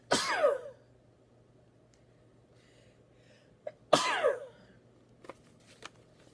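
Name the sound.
sneeze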